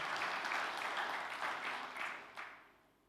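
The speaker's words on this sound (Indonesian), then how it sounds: "Berikan tepuk tangan yang meriah." A church congregation applauds in a broad, moderately distant wave of clapping that holds steady, then tapers off and dies away near the end.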